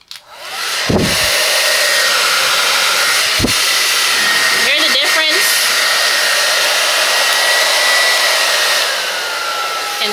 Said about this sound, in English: Can you hear me clearly over this hair dryer compared to when I'm using my other hair dryer?